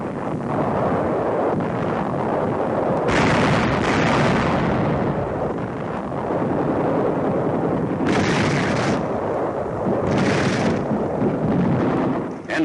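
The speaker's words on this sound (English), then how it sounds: "Enemy small arms and mortar fire is encountered by the Australians" Battle din from World War II newsreel combat footage of Australian troops taking Parramatta Ridge under enemy small arms and mortar fire: a continuous rumbling roar with repeated heavier bursts of blasts, loud throughout and with no speech.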